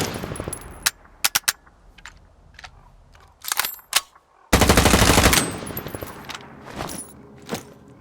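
Rapid bursts of M4 rifle fire in the video game STALKER 2, loud and close, with short volleys, a sustained stream of shots in the middle, and scattered single cracks between them.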